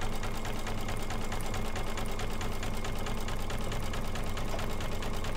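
A computerised embroidery machine stitches out a sparkly in-the-hoop coaster design, its steady rapid needle chatter running continuously at moderate level with no talking.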